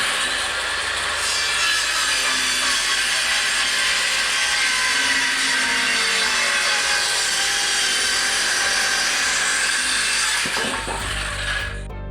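A wooden board is sawn by hand for a motor home bathroom leak repair, giving a continuous, close, loud rasping stroke that runs without a break for about eleven seconds before it stops.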